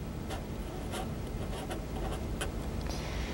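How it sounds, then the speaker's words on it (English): A pencil scratches steadily as numbers are written into a table, with soft continuous scraping strokes and a few sharper ticks, close up and alone. "I can write that in my table"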